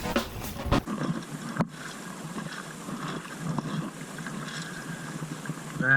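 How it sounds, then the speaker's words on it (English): A small 34-year-old Sunfish sailboat sits becalmed during an endurance sailing race, with near-silent water lapping faintly around the hull and a light hiss of air, broken by a few soft knocks near the start. "is the sound of being becalmed"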